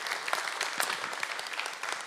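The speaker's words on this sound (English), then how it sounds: "I want you to give a round of applause for Noah Johnson from Holy Cross Lutheran Church." An audience applauds a guest, Noah Johnson of Holy Cross Lutheran Church, when he is called up at a church gathering: steady, dense clapping that continues evenly for about two seconds, moderately loud, with no one talking over it.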